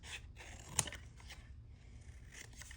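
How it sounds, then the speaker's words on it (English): Scissors snip through a book page during paper crafting: one crisp, close cut stands out amid quiet paper rustling and handling noises. "This time I'm going to use my scissors."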